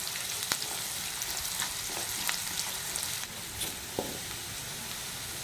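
Onion and curry leaves frying in a pan for a beetroot fry, giving a steady close sizzle with occasional scrapes and clinks as they are stirred, with no voices.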